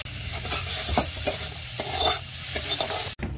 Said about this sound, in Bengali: মাছ সবজি ভাজা হয়ে গেছে, এবারে মশলা কষাচ্ছি।